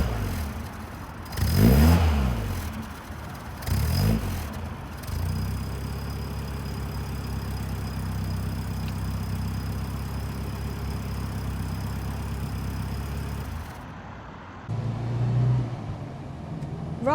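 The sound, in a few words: 1960s Riley Elf MK2 classic Mini engine heard from the back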